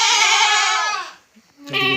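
A goat kid, one of a pair that had been ill with diarrhoea from worms, gives a loud quavering bleat up close, falls silent briefly, then starts a second bleat.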